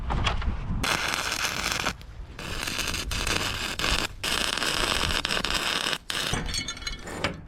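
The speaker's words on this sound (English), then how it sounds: "The backing plate that we drilled 2 holes through, let's weld this onto the back of this." Arc welding a steel backing plate onto a scrap horseshoe door knocker gives a loud, continuous crackling sizzle in several long bursts, each cut by brief pauses between passes.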